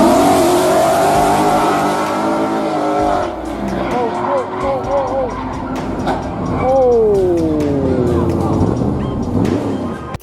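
A supercar at speed squeals its tires in a long skid, then revs and slides again with swooping pitch sweeps and sharp clatters, loud and close, while a narrator talks over much of it.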